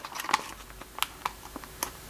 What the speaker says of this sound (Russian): в нижней части просто отрезаете по периметру